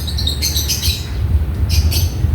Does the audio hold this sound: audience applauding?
no